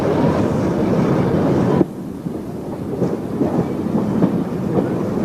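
A train pulls through the 260-yard Falsgrave Tunnel and into Londesborough Road platform. It gives a loud, continuous rumble that drops abruptly and carries on as a lighter rolling clatter with faint thumps, all without voices.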